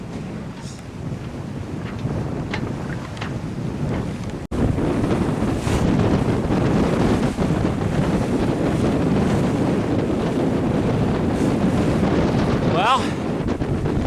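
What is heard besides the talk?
strong wind while sailing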